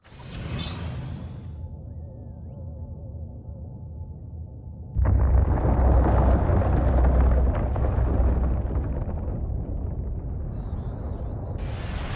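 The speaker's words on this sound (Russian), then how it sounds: "Сейчас будет большой бум." A military flag factory blows up in the remake of Destroy All Humans!. A quieter whooshing rumble gives way to a sudden, massive explosion, and a loud roaring blast with debris keeps rolling for several seconds at close range.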